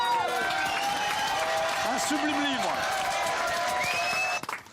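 A TV show studio audience claps and cheers loudly while a voice speaks over it, the applause cutting off abruptly near the end.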